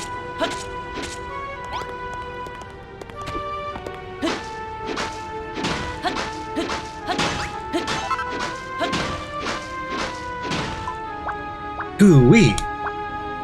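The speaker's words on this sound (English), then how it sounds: "You smashed that sand like it was nothing." Blocks of sand in Dragon Quest Builders 2 are smashed apart in a quick series of sharp crunching hits, roughly one every second, close and clear over a steady game backdrop, with a brief cartoonish vocal squeak at the end.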